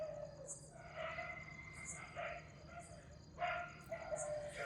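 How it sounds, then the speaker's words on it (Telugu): Dogs bark faintly in the distance, a few scattered yelps over a low, quiet nighttime hum. "జాగ్రత్తగా వింటే కుక్కల అరుపులు కూడా బాగా వినిపిస్తాయి"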